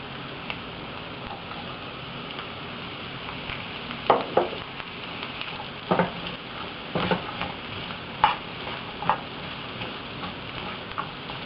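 Carrots stirred in a frying pan for shrimp with quail eggs and green peas, a soft steady sizzle under scattered clicks and light scrapes of a utensil against the pan, close and quiet, no speech.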